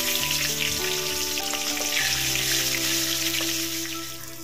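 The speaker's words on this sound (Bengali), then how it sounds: "তেলটা গরম হয়ে গেলে এর মধ্যে জিরে আর কাঁচা লঙ্কা ফোড়নে দিলাম।" Cumin seeds and green chilies hit hot oil in a kadai, oil left from frying fish, and give a loud, steady, crackling sizzle that runs unbroken throughout with no voices.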